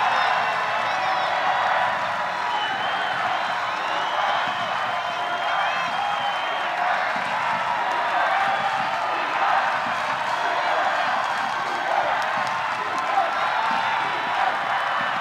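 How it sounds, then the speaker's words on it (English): A big crowd roars, cheers and applauds throughout an Ultimate frisbee semifinal between the Seattle Cascades and Madison Radicals at Championship Weekend. The dense, steady roar stays loud and close with whoops mixed in, and no one speaks. "Listen to this crowd."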